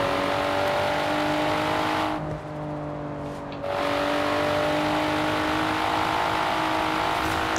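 Volvo V60 T6 engine revving in Forza Horizon 4, a steady loud drone with a brief drop near the middle before the revs climb back up, with no talk.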